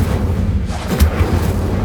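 Incendio fire spell cast in Hogwarts Legacy, a steady roaring whoosh with low rumbling booms and a brighter burst about halfway through, loud and close throughout.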